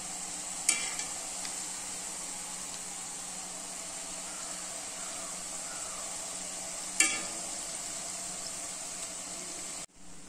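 Murukku fries in hot oil with a steady, even hiss of sizzling bubbles. Two brief clatters cut through near the start and midway, and the sizzle stops abruptly at the end.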